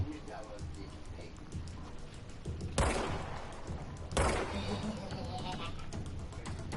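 Gunfire in the video game Control, with two sharp loud bursts standing out over a busy background of smaller cracks and thumps, while someone talks throughout.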